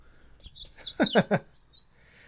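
A penduline tit gives a few thin, high calls, then a brief cluster of sharper notes in the middle. The calls are moderately near and heard over a faint background hiss.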